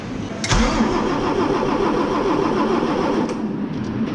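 A Volvo FH 460 truck's D13 diesel engine cranks and fires after an engine rebuild, then settles into a loud, steady idle close by, with no talking.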